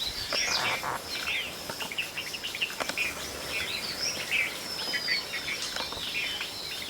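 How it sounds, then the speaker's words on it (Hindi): Steady evening outdoor chorus in a Himalayan village during the monsoon, spotted doves cooing softly from several directions with chirps over a constant insect hum; no talking. "शाम को इस समय स्पॉटेड डव की आवाज़ हर तरफ से आ रही होती है।"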